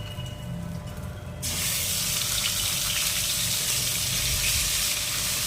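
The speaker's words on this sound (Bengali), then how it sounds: "এবার আদাটা তেলের মধ্যে নেড়ে নিয়ে দিয়ে দেবে টমেটো কুচিটা" Ginger-cumin paste drops into hot oil spiced with panch phoron and bursts into a loud, sudden spitting sizzle that then holds steady as a dense hiss.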